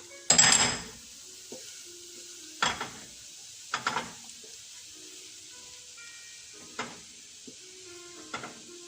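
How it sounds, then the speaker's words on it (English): Beef coconut roast shifted from a pan into a serving pot: a loud opening clatter of metal, then several sharper scrapes and clinks spaced out at a steady pace, close by, with a faint sizzle between them. "So what I can do is I can just move this into serving pot."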